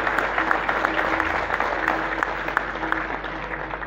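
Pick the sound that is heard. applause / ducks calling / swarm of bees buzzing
applause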